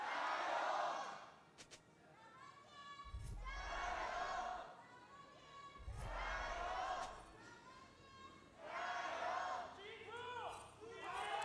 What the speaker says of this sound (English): Someone in the crowd just yelled G2.